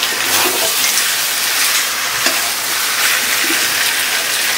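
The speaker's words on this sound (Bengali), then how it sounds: "মাংসটা প্রায় কষে আসলো" Chicken kosha stir-frying in a pan makes a dense, loud sizzle with occasional soft scraping of a spoon, close and continuous.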